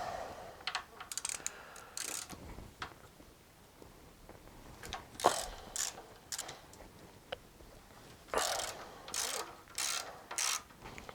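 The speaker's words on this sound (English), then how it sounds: "first thing I'll do is take the calipers off" Brake calipers come off motorcycle wheels in a series of quick ratcheting clicks and metallic clatter, bursts separated by short pauses and heard up close with no talking.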